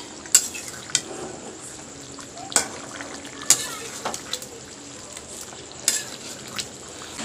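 Meat curry in red gravy cooks in a pan, a soft steady bubbling sizzle with scattered sharp clinks and taps of a utensil against the pan, close and moderate in level.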